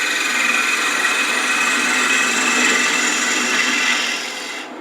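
A 3/8 inch spindle gouge cuts into a spinning piece of wood on a lathe while turning a spin-top ornament, giving a steady close hissing shave that eases slightly at the end.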